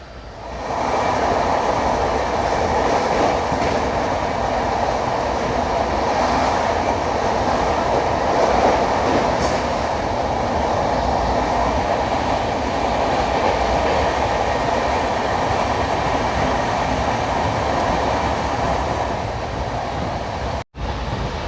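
An Indian Coromandel Express train with LHB coaches runs at speed, giving a steady, loud rumble with faint clickety-clack from the rails, heard from inside the coach for the whole stretch.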